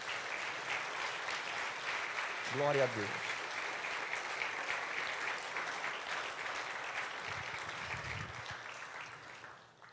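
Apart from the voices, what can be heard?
church congregation applauding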